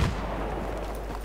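A grenade blast in a Grand Bazaar map of an online shooter, one heavy booming hit at the start that rolls into a loud, sustained rumble of gunfire for about a second.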